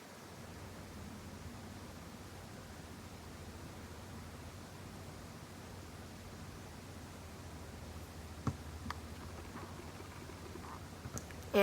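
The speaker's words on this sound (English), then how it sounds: "It's making a little motor hum and there's a slight breeze coming." A Nicor 52-inch ceiling fan running at medium speed gives a faint, steady motor hum and airy whoosh that holds even throughout, with a couple of tiny clicks near the end and no talking.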